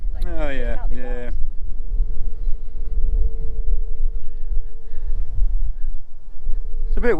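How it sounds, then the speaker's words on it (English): Strong wind buffets outdoors around an old mill site, a constant low rumbling roar close to the microphone throughout, with someone speaking briefly at the start and the end. "It's a bit windy, folks."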